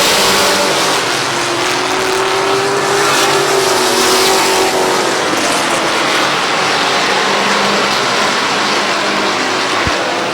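Race cars at Midvale Speedway roar past in a dense, loud, continuous engine drone with revving pitch shifts, heard up close and unbroken for the whole stretch.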